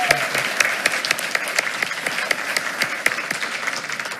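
Applause at a school board meeting honoring a student: a room of people clapping steadily with sharp individual claps standing out, loud and sustained throughout.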